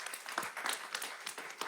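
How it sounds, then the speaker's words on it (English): Audience applause for Jim Hill High School class of 2026 scholarship recipients at a city council meeting, a steady wash of dense clapping with some sharper individual claps throughout, moderately distant. "Let's give them a round of applause, please."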